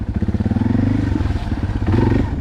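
A Yamaha Big Wheel motorbike rides past close by, its small engine putting out a steady, pulsing, throbbing drone with a little clatter and no talk.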